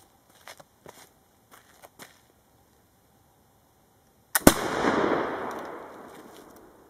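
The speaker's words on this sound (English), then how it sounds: "So I'll just shoot at this tree right here." A flintlock rifle loaded with triple FG black powder fires outdoors at a tree: a few faint footsteps or handling clicks, then a sharp loud crack with a quick priming flash and a long rolling echo.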